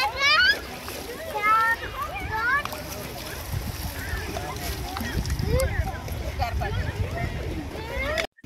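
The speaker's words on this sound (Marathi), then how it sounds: "लहान मुलं वाहत्या आणि खोल पाण्यात देखील छान स्विमिंग करतात." Children splash while swimming in flowing, deep river water near a small waterfall at a riverside picnic spot, with irregular splashes under children's voices and chatter.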